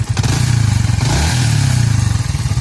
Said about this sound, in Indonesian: Ini kondisi mesin masih hidup, dan kondisi mesin juga udah panas karena udah kita test drive.